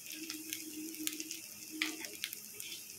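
Potatoes broken by hand into a pan for samosa filling fry with a steady, quiet sizzle, with scattered crackles and a faint spoon scraping now and then.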